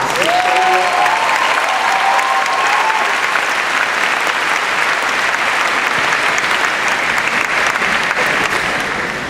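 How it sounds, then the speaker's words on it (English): Graduating class and audience at a commencement ceremony giving a long round of applause, a full, steady crowd clapping with a few faint cheers or whistles early on, continuing at an even level throughout. "would you please give them a round of applause?"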